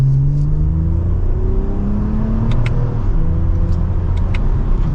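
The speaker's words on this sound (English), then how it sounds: "with a mild acceleration, we're up to speed" A 2024 Toyota Camry TRD accelerating from second gear, heard from inside the cabin: a loud, steady engine drone whose pitch climbs smoothly through the revs, with a mild exhaust tone, a few brief clicks and no talk.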